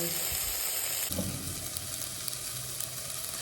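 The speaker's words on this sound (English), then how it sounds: "I'm dry frying the pepper, the thyme, and shallots again because I don't have scallions." Bell pepper, thyme and shallots dry fry steadily in a hot pan, a dense crackling hiss with occasional stirring scrapes, close up and continuous.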